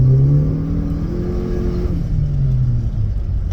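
A Honda Civic FK7 with a turbocharged engine and a Mishimoto cold air intake drives forward in drive, a steady close engine drone with gently shifting pitch as it accelerates, no talking.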